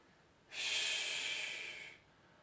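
A single long inhale during a French-led strength workout, a steady airy rush of breath lasting about a second and a half, close and fairly loud, with no talk over it.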